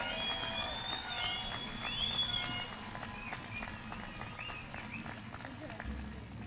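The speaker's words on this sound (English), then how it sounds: "one more round of applause for our graduates." Sustained applause from a graduation ceremony audience, a steady wash of clapping filling the space at moderate volume, with an announcer's voice over the crowd.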